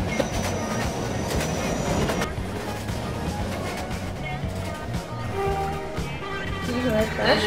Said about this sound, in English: This is the last stop on this train.